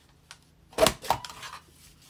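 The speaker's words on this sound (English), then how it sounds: "So I'm going to punch out 4 2-inch circles" A circle punch cutting 2-inch circles out of wrapping paper, heard as two sharp crunching snaps close to the microphone about a quarter second apart, followed by a softer rustle of paper in a quiet room.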